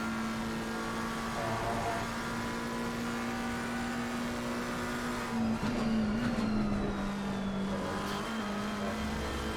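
Ferrari and McLaren race cars running on a circuit, a steady loud engine drone with a sustained tonal whine that shifts in pitch as the cars jostle, continuous throughout with no talk.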